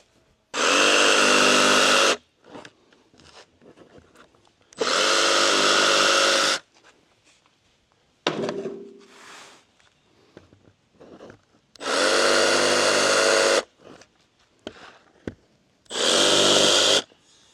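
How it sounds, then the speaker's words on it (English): Jigsaw cutting AZEK PaintPro exterior trim, four loud buzzing bursts of a second or two each, separated by quiet gaps with handling noises and a brief scraping sound. "now I'm going to come by with my jigsaw and just finish it up"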